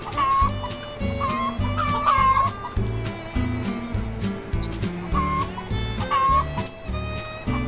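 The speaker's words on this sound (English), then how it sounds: "Move out the way, chickens." Chickens cluck repeatedly in the farming video game Agricultural Simulator 2013, loud and close, with a tonal game sound recurring underneath in a steady pattern.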